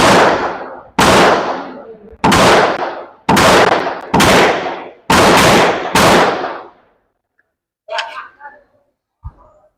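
Seven sharp, loud gunshots from a Canik SFX Rival S all-steel pistol, fired at a steady pace about one per second and each ringing out briefly, followed by quiet and a few softer handling sounds.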